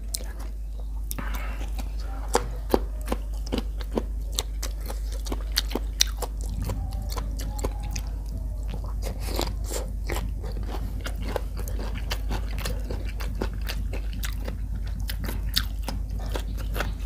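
Someone eating grilled pork neck with papaya salad made with fermented fish and fresh vegetables, close up, with repeated crunchy bites and steady chewing throughout and soft talk in the background.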